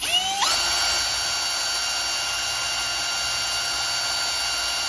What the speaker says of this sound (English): The first trick is to pilot drill the holes.